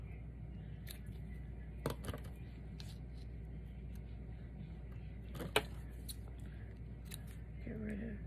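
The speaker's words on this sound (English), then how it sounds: "I'm gonna cut some of this off." Scissors snip through paper seed catalog images in a few sharp, scattered close cuts over a quiet steady hum, with soft handling sounds and faint talking.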